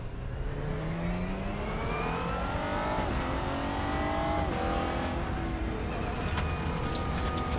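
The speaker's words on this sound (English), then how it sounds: "Ignition, starter, there we go. There's the throttle response I was looking for." A GT4 race car in RaceRoom Racing Experience is heard alone and loud throughout, its engine revving as the pitch sweeps up and down, rising and falling across several throttle blips.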